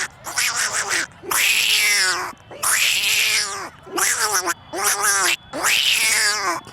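A voice mimics fighting cats with a series of loud, drawn-out yowls and wails in about five bursts separated by short pauses.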